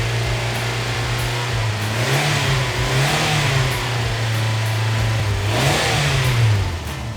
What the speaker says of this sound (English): That revy little engine.